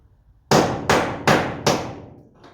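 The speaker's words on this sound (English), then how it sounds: "this little chisel, I should be able to chop that off there" A small chisel struck with a hammer to chop off a spot weld on a van body, four loud, sharp metallic blows at even intervals, close up, followed by a fainter fifth knock.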